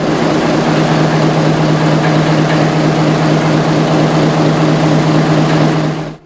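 Twin 350-horsepower diesel engines run steadily in the engine room of the Finnish submarine Vesikko, a loud, continuous droning hum with a strong low tone that holds level before cutting off at the end.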